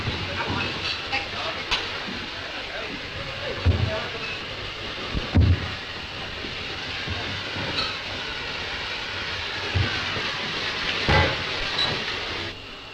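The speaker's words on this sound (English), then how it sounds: "The trains are waiting to take you down now." Trains rumbling through an underground tunnel in a 1930s transatlantic tunnel setting, a steady broadband roar with hiss and occasional louder thumps and clacks, continuous throughout.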